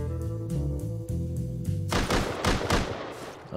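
Rapid bursts of turret and shotgun-trap gunfire in the video game Rust, a loud fusillade of overlapping shots that erupts after a stretch of softer thumping and keeps going to the end.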